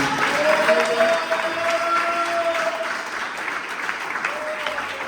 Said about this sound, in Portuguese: Palmas bem alegres para Cristo.